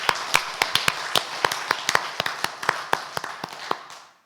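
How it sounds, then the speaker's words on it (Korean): Congregation applauding during a Sunday church service to celebrate members' birthdays: a brief burst of rhythmic hand claps, steady and fairly close, fading out at the end. "우리 박수로 축하합시다."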